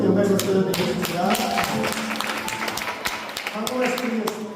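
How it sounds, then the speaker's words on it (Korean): Church congregation claps together during a Parents' Sunday service, a mix of scattered and rhythmic hand claps filling the room, with some voices and background sound mixed in. "함께 영광의 박수를 드리겠습니다"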